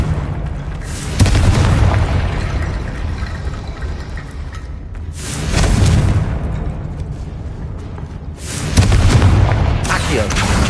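Three booming blasts of the Confringo fire spell in the game Hogwarts Legacy, played on PS5, each erupting loudly and rolling off into a long rumbling roar, spaced a few seconds apart with no voices.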